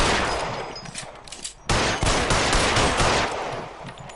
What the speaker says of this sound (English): I shot the guy in the head.